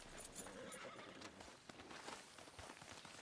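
A horse in Red Dead Redemption 2 whinnies close by with a rough, breathy neigh, with soft hoof clip-clops and shuffling around it, fairly quiet overall.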